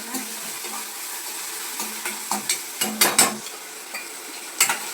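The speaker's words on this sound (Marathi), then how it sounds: "आपला कांदा लसूण फोडणीला दिलाय" Onion and garlic sizzle steadily in hot oil, with a spoon scraping and stirring the pan in short, irregular strokes close by.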